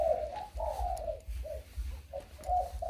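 Caged wild-caught doves coo in a steady repeating series of soft, rounded calls, close and fairly loud, over a low background rumble with no talking.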